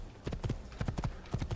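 Horse hooves clip-clop in a quick, even trot in the video game Assassin's Creed, a short run of soft, close hoofbeats.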